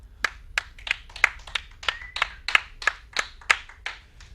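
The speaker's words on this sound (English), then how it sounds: "3 claps." About a dozen distinct hand claps at a steady, rhythmic pace, close and fairly quiet, during a StarCraft 2 esports match broadcast, with no voices over them.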